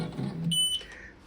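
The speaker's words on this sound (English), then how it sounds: "Once it beeps at us, we can push this button" A laser engraver gives one short, high electronic beep once framing is done. The beep sits over a faint low hum and fades right after.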